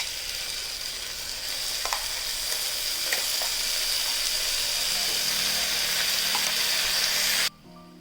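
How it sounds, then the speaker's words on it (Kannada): Ground masala paste fries in a pan, a steady loud sizzle with occasional scraping stirs, running continuously until it cuts off near the end. "ಈಗ ಈ ಮಸಾಲೆ ಎಲ್ಲ ಹಾಕ್ಕೊಂಡು ಒಂದು 2 ನಿಮಿಷ ಚೆನ್ನಾಗಿ ಫ್ರೈ ಮಾಡ್ಕೊಳ್ಳೋಣ"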